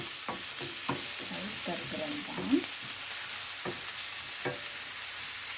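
Chopped onion sautés in a pan toward golden for a sprouted fenugreek sundal: an even, close sizzle runs throughout, with occasional spoon scrapes and a soft murmur of voice in the middle.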